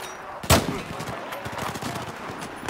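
Gunfire in the video game Battlefield 4, with one sharp loud shot followed by a stretch of scattered distant shots and rumbling battle noise.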